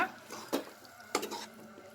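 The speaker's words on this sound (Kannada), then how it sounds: "ಈಗ ಲಿಡ್ ಮುಚ್ಚಿ ಒಂದು ಸ್ವಲ್ಪ ಬೇಯಕ್ಕೆ ಬಿಡೋಣ, ಒಂದು 5 ನಿಮಿಷ" A metal lid set onto a pan cooking baby capsicum and brinjal bhaji, two quick clinks about half a second apart over a soft kitchen background.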